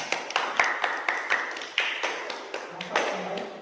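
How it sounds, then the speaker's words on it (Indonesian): A small group in a community training session claps hands in a steady, somewhat scattered rhythm of sharp taps, fairly close and continuing throughout with faint voices underneath. "untuk yang kedua kita kasih tepuk tangan"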